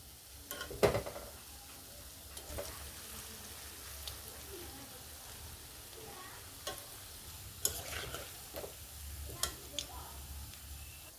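Taal bora, sweet palm-fruit fritters, frying in oil in a pan at home with a quiet, steady low sizzle, broken by a few soft scrapes and clinks as they are turned.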